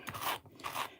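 Two quick crisp snips of scissors cutting, close up and fairly quiet.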